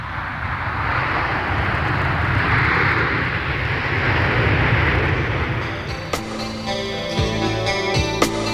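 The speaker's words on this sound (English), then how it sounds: "Consumed by the C-5A, it is transported across the Pacific to Australia" A large C-5A military transport aircraft carrying an F/A-18 across the Pacific, its engines a steady, loud broadband roar that holds throughout, with a few tonal electronic effects entering near the end.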